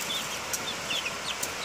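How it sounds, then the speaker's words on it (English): Young chicks, about two weeks old, kept near ducks give several thin, high peeping chirps over a dense, noisy background hiss. "there's the chicks"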